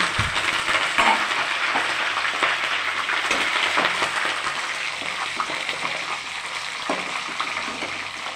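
Curry leaves, dried chillies and cinnamon frying in hot oil for temple-style puliyodharai, a steady crackling sizzle with occasional stirring scrapes, loud and close throughout.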